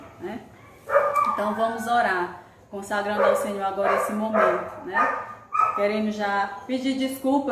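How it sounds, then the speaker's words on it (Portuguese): A neighbor's dog barks in the background at a home while a person speaks continuously over it, the barks partly buried under the voice. "o cachorro latindo é porque é live"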